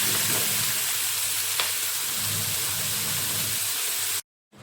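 Onions and a handful of small shallots fry in a pan, giving a steady, close sizzle for about four seconds before cutting to silence; no talking.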